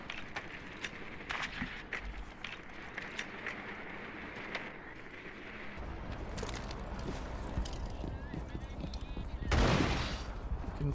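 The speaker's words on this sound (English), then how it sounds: "He runs into his teammate's gunfire" Rapid gunfire rings out in a competitive video game match at a league finals, bursts crackling continuously beneath an excited caster's commentary, with a louder burst near the end.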